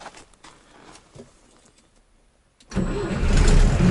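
A ZAZ-968M Zaporozhets car fitted with new spark plugs and ignition wires cranks quietly with faint ticking, then catches and starts promptly into a loud, steady, rumbling engine run, close to the listener.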